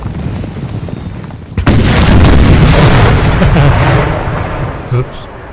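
Artillery fires in the Napoleon Total War game during an 1805 French campaign battle. A sudden heavy boom rolls into a long rumbling roar, then a smaller pop follows. A voice talks faintly beneath.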